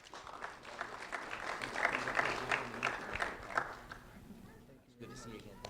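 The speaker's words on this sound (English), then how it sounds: "a round of applause for Quinn Maricle" Audience applause at a sheriff's office award ceremony honoring a second grade student, steady clapping from a room of people at moderate level, fading toward the end as a voice resumes.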